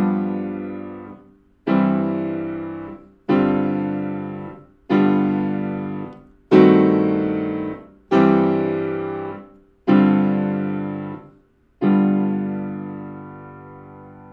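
Eight separate sustained chords from Bach's Prelude in C Major (WTC I), measures 24–31, played as a reduction on a keyboard, each struck and left to ring and fade before the next, at a slow, even pace.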